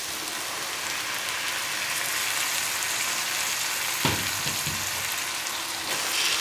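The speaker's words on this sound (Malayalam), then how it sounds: "നമ്മളിത് നന്നായി ഒന്ന് ഇളക്കി വരട്ടേരാം" Chicken tikka sizzles steadily in a hot pan as blended tomato puree is poured in and stirred, a continuous close crackle with a brief scrape of the spoon partway through; no one speaks.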